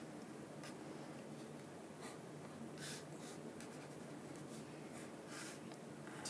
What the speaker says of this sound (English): So let's draw it as a schematic.